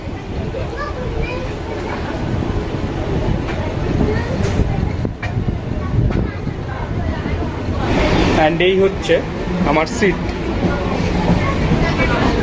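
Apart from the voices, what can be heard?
local train running after leaving Jaleswar station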